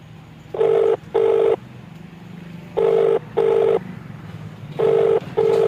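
A phone call rings out on the line: three pairs of electronic ringback tones, each pair two quick beeps, repeating at even intervals with short pauses between, clear and loud over a low background hum.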